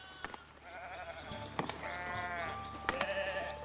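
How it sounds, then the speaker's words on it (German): Sheep in a small flock bleat in the medieval building game Foundation, several wavering baas overlapping one after another amid faint ambient game sounds and occasional soft clicks, with no talking. "Ah, ein paar Schäfchen, oder? Das ist eine kleine Herde."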